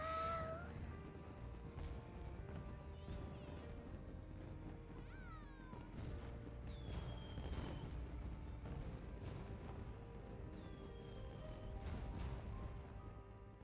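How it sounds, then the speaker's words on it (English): Fireworks bursting close by in the video game Persona 5 Strikers, a quick series of sharp booms and crackles spread across the clip, with whistling rising trails and a bright ringing musical tone underneath. "Man, I never saw fireworks from that close up before."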